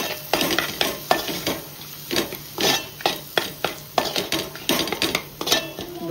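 Biryani masala stirred in a metal pot for chicken biryani, with a spoon scraping and clinking in a steady repeated rhythm of close, fairly loud strokes and a faint sizzle underneath, no talking.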